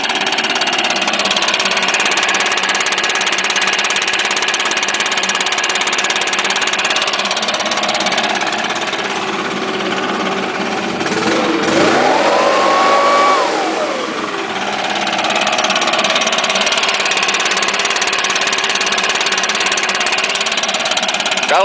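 A 2012 STIHL BR550 backpack leaf blower engine runs steadily and loud throughout, with a brief dip and swell in pitch midway as the throttle shifts, then settles back to a constant drone.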